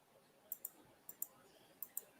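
Computer mouse clicks while selecting a comment in StreamYard, six sharp faint clicks in three quick pairs over a quiet background.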